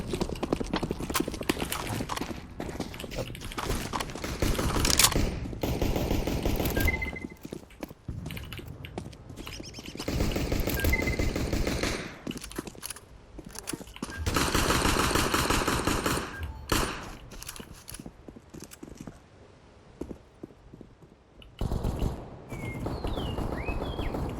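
Gunfire in the first-person shooter game CS GO comes in repeated bursts of rapid shots, alternating with short pauses and some footstep-like clatter, loud and close throughout.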